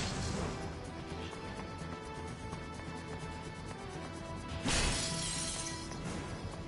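Glass shatters in Ninja Gaiden Sigma 2 as a character crashes through a pane, a single bright loud smash with a burst of scattering shards rising out of busy game music and ambience.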